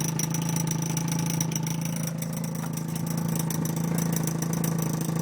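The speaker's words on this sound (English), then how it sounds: "So it's a Renesas rotary engine." The 1.3-liter Renesas rotary engine of a 2004 Mazda RX-8 idles with dual exhaust, a steady, even drone held close and unbroken throughout, with no talk over it.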